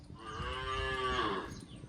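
A Kankrej cow gives a single long, close moo that rises and then falls, clear and alone over faint background noise.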